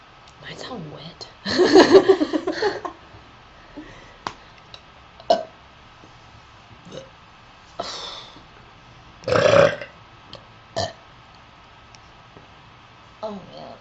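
A girl lets out loud, long burps, a big gravelly one early and another later, scattered with shorter belches, small clicks and quiet chuckles in a room, with voices between them.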